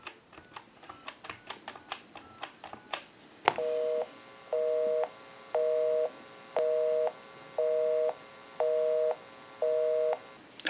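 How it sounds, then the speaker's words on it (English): Rapid clicks of a Western Electric Princess telephone being dialed, then a repeating busy signal: about seven steady, evenly spaced beeping tones, close and clear, with no talk. "We'll call my number and it'll be busy. So we'll go ahead and give you some dial tone, and we'll make that call."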